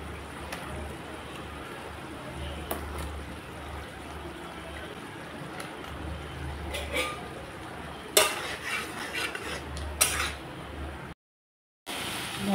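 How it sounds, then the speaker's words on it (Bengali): Cauliflower and potatoes sautéing with spices in a pan, a low background sizzle with intermittent scrapes and clinks of a utensil against the pan, a louder clatter midway, then a short silent gap. "মশলার সাথে আমি কপি আলুও ভালো করে কষিয়ে নিলাম।"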